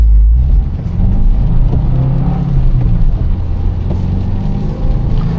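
A Subaru WRX with a manual clutch pulls away hard from a green light, its engine a loud, close, low rumble that builds steadily as it accelerates, with no voices.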